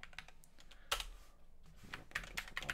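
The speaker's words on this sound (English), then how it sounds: "typing in our password" Someone types a password on a computer keyboard while setting up an SSH server on a Fedora machine, giving a short run of quiet, irregular key taps with a couple of louder clacks.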